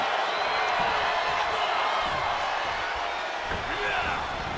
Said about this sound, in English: Shot after shot, then slamming their face down.